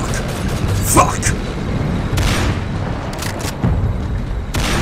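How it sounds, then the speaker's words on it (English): Gunfire and grenade blasts from a Walking Dead motion comic, with repeated booming bursts and sharp cracks over a dense rumbling battle bed, while shouting voices run through the noise. "We can't hear you up there with all that shooting."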